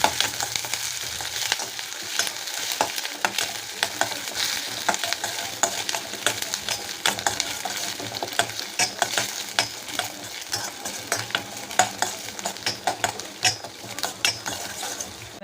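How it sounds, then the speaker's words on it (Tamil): Steady sizzling and crackling from a hot pan of curry leaves, pepper and ginger sautéing, with frequent scraping stirs and clicks of a spoon against metal, close and continuous. "கறிவேப்பிலை போட்டுக்கோங்க நல்லா வதக்கி விடுங்க"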